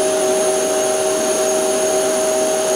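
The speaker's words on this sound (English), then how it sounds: "So go ahead and turn this on, and then I'll show you how it go ahead and creates a vacuum" A shop vac runs steadily to pull suction on a 24x24 vacuum table, a loud continuous whining drone with strong sustained tones and no breaks, close by and alone.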